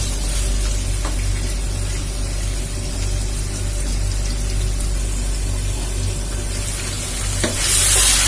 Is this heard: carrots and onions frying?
yes